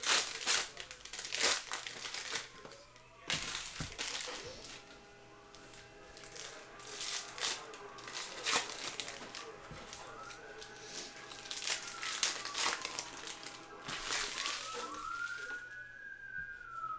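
Baseball trading card packs, 2021 Prizm, are torn open by hand: repeated crinkly foil rips and rustling crumples come in bursts over a faint background hum, close and fairly quiet, with no one talking.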